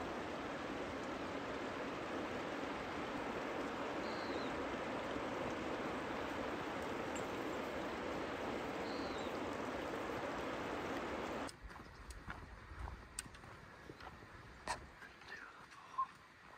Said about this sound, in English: This waterfall coming down this hillside.